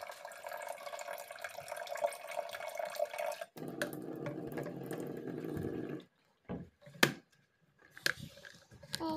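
Water running from a kitchen tap into a pot for noodles, a faint steady splashing stream that stops partway, followed by scattered drips and small clinks.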